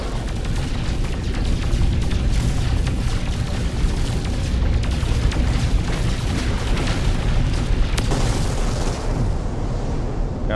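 Dense, rumbling blasts and booming bursts fill the scene as an object is destroyed in the video game No Man's Sky. The sound is loud and continuous, with a sharp crack near the end.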